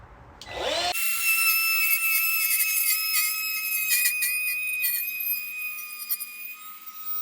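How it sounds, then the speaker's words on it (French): A Ryobi One+ R18TR cordless wood router with a straight bit starts up and then cuts freehand into a wooden board, holding a loud, steady high-pitched whine with a gritty cutting texture. "je vais fraiser à main levée juste pour l'exemple"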